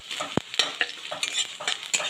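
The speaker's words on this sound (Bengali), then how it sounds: "এখানে দিয়ে দিচ্ছি রসুন কুচনো।" Chopped garlic frying in oil, with steady sizzling and several sharp clicks of a spoon stirring the pan at close range, and no voices.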